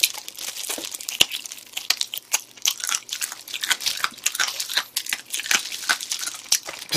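Close, crisp crunching and crackling of chicken cartilage being chewed, irregular bites repeating rapidly for several seconds with no voices.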